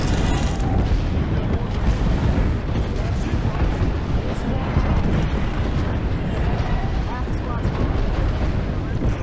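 Airstrike explosions in a video game, a dense continuous barrage of loud rumbling booms and blasts rolling on without pause.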